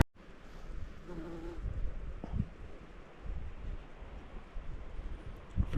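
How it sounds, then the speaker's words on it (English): A small bee buzzes around near the microphone beside the old Alaska Highway, a steady close drone over wind noise and outdoor rustling. "For some reason, this little bee's kind of excited to be with me."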